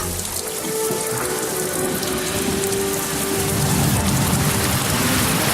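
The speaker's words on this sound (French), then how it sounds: "Et dès qu'on commence à manger, il pleut." Steady rain falls throughout during an outdoor meal stop on a Cambodian travel-race route near Phnom Santuk, a continuous hiss of drops on surfaces, fairly close and even, with no voices.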